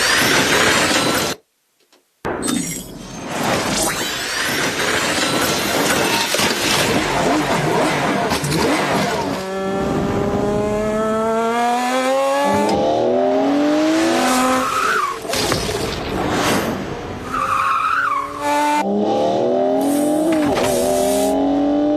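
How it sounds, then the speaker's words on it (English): Film sound effects for a car and its surroundings: roaring engine revs, a sharp cut to silence, then repeated screeching tire skids and whooshing passes, loud and layered with no talk. "So those are special effects designed for that car and the environment and everything."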